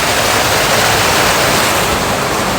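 Water roars through an abandoned, badly decaying water mill in Sussex, a loud, dense, unbroken rush close by, with no voices over it.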